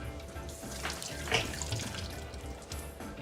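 Kitchen tap water runs steadily into a sink while lemongrass is rinsed, a soft continuous splashing rush at close range.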